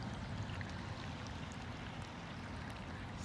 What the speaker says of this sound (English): I can hear the water. It's like a babbling brook.